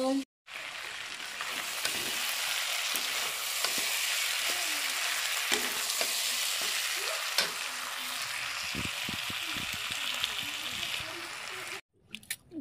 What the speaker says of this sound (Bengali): এই যে এখানে এই যে পেঁয়াজটা একটু ভাজা ভাজা করে নিই আর তরকারি বসাবো